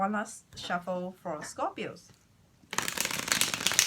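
A person talks, then a fast riffle of cards being shuffled follows, crisp and close for about a second.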